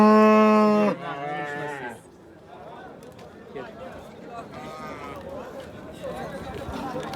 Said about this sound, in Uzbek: Navbatdagi sigirimiz chiqyapti.